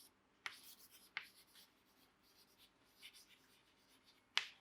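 Chalk or marker writing on a classroom board: a few sharp, brief scratchy strokes spaced apart, with quiet gaps between them and no talk.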